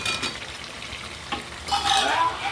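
Cut potatoes fry among meat and spices in a pan with an even sizzle, broken by stirring scrapes and metallic clinks of a utensil against the pot, louder toward the end.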